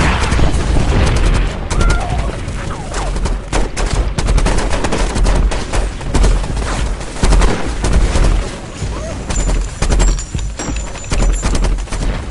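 Rapid bursts of gunfire crackle continuously, dense and loud, mixed with booms and rough background noise, in a battle involving American troops.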